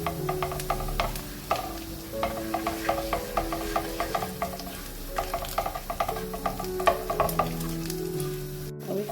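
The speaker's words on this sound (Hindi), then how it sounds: "अब मैं इसमें जीरा और कलौंजी को डालूंगी ताकि ये थोड़ी सी रोस्टेड हो जाए" Steady crackling sizzle of cumin and nigella seeds frying in hot ghee, with dense popping and spitting throughout and a low hum underneath.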